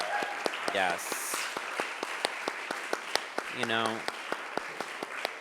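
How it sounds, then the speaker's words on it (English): An audience claps and cheers steadily for a drag performer at an award event, a dense sustained round of applause with sharp individual claps and a couple of brief whoops rising above it. "Let's get a round of applause"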